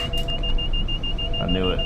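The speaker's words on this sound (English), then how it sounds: "those are the safety systems in the cab alerting you of like speeding or whatever." Cab safety-system warning beeps in a commuter train in the Train Sim World 6 game on a New York City to Stamford route, a steady rapid run of high electronic pips over low rumbling train noise, with a brief spoken remark near the end.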